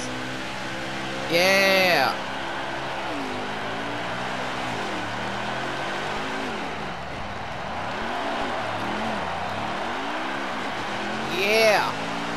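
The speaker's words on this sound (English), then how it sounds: "Let's do burnouts." Stock cars doing burnouts in NASCAR Heat 5, a droning engine with wavering, rising and falling revs and two sharp tire screeches at the start and end, with a voice speaking briefly.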